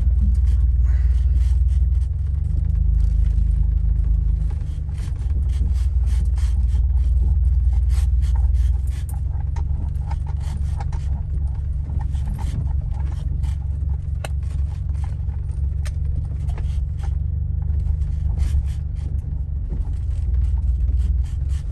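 A Jeep rumbles along at low speed, its engine a steady deep drone with rattles and scraping from the cabin.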